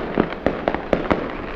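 Fireworks bursting at a Chinese New Year celebration in the Philippines, a string of five or six sharp cracks and pops at irregular intervals, fairly close and loud over a steady crackling background.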